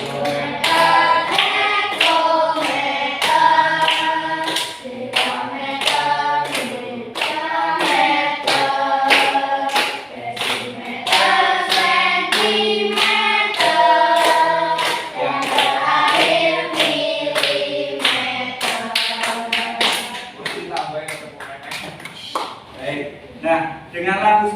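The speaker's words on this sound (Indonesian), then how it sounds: "Sambil tepuk ya." Students clap steadily in time while a teacher sings a counting song about metric length units in a classroom, the regular claps sharp and close under the melody.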